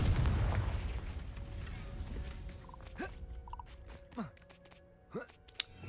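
Confringo blasting spell from the Hogwarts Legacy video game, a fading rumbling blast followed by several sharp popping bursts and tonal impact sounds, fairly faint over a quiet game background.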